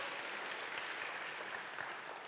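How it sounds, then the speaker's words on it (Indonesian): A congregation at a Sunday church service applauds in a continuous, even wash of clapping, somewhat distant and soft throughout. "Tepuk tangan bagi Allah kita"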